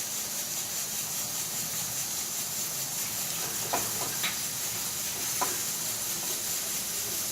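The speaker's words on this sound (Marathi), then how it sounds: "टोमॅटो प्युरी ॲड करून घेऊ आपण" Tomato puree sizzling in a pan with ginger-garlic paste for a spicy mutton cashew curry, a steady soft frying hiss with a few faint stirring clinks.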